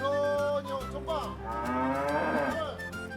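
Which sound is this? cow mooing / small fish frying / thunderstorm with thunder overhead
cow mooing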